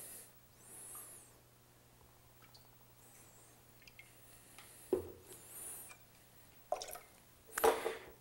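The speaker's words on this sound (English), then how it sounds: "Then we're going to add 1/2 ounce of grapefruit juice." Grapefruit juice trickles into a cocktail in a few brief, faint splashes and drips separated by quiet pauses, close by, with no voices.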